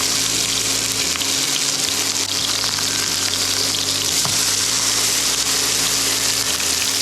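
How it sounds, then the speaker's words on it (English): A hamburger patty pan-frying in oil for a Cantonese-style burger gives a steady, dense sizzle with a low mechanical hum beneath it, continuous and close, with no voices. "let it pan fry for 2 to 3 minutes"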